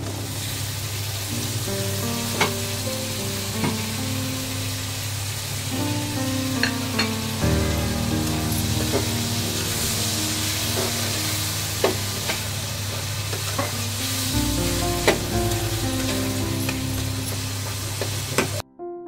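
Chopped vegetables such as tomato fry and get stirred in a pan while making soup noodles. A steady sizzle runs throughout, with repeated utensil scrapes and clinks at an uneven rhythm and no talking.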